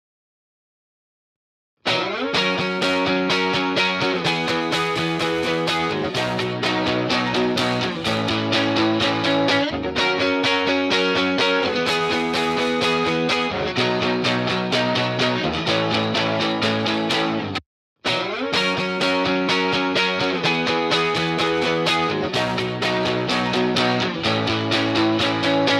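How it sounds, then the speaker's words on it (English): A music track runs through an RC-20 plug-in that adds wavering modulation and crunchy distortion, a continuous dense loop with a brief dropout near the end, loud and without talk. "it's going through this modulation process, and then it's hitting a part where it's like crunching the distortion a little bit different,"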